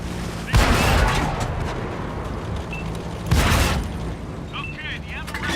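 Two heavy tank cannon shots boom in an Xbox tank battle game, roughly three seconds apart, each a loud blast with a rumbling tail over steady background engine and battle noise.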